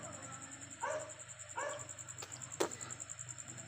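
A dog gives two or three short barks or yips, fairly close, over a steady high-pitched electronic whine and low background hum.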